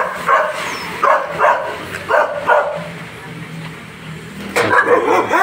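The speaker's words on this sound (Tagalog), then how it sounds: "Sorry, maingay na, maraming aso dito." Several dogs at a large house bark and yip in short clustered bursts, with whimpering between them, moderately near and loud, while someone talks over and between the barks.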